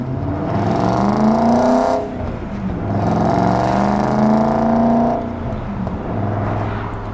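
BMW E34 540i V8 fitted with a Magnaflow exhaust and resonator delete, warmed up and pulling away, engine note rising through two loud revving surges with a brief dip between them and a third starting at the end, no talk.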